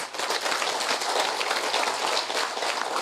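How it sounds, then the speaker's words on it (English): Applause from the crowd at a public meeting in Yupukari Village, a dense, steady wash of many hands clapping at once, loud and continuous throughout without a break. "let's give him another round of applause"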